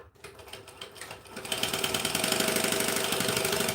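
A sewing machine stitches a seam at a short joining stitch length of 2. After a quiet start, a fast, even, rhythmic needle clatter builds and runs steadily and close by.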